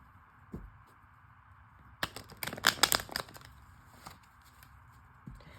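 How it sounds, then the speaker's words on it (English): Tarot cards are shuffled in a quiet room, a short burst of rapid riffling and papery flicks, close and soft, with a few isolated taps before and after. "But I will shuffle it and see if it comes out again."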